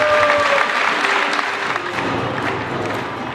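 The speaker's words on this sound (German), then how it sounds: "für den Einmarsch der Finalteilnehmer bitte einen kräftigen Applaus" Steady, full crowd applause filling a sports hall as the finalists march in at the 2014 Lower Saxony state karate championships in Uelzen, continuous throughout with faint tonal sounds in the background.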